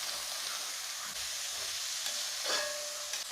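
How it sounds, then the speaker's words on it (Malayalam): Sliced onions and small shallots with a little salt sauté in a pan, making a constant soft sizzle with spoon scrapes and stirring movements, close by. "നല്ലതായിട്ടൊന്ന് വഴന്നോട്ടെ"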